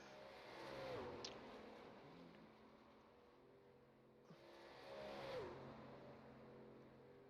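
A race truck engine in a truck racing video game whirs at moderate volume, with two rising-then-falling revving sweeps as the truck winds up on a qualifying lap.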